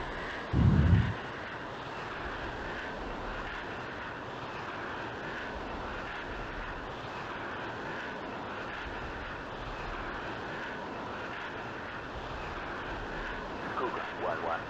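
A jet fighter, an F-16 in the Falcon 4 Allied Force flight simulator, rolls for takeoff from a runway with a steady, loud engine roar throughout, a brief thump near the start and a few bumps at the end.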